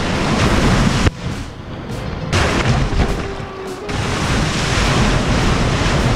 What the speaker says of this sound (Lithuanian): žiauriai geros bangos, labai fainai